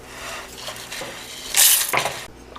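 Golden roasted urad dal is tipped from a pan into a bowl, producing a short scraping and rattling of lentils against metal, followed by a brief clink of the pan, close and fairly loud.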